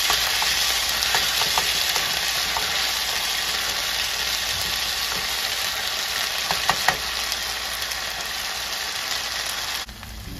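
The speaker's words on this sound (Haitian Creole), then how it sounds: "Nous faisons pâte tomate bien frit." Tomato paste fries in oil in a pot with a steady, dense sizzle that holds unbroken and fairly loud, with a few faint clicks near the end.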